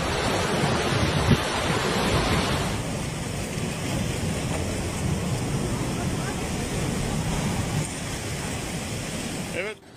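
Floodwater in the Sokes stream near Inebolu, Kastamonu, Turkey, roars as a continuous broadband rush with wind buffeting the microphone, loud and unbroken, easing slightly after the first few seconds.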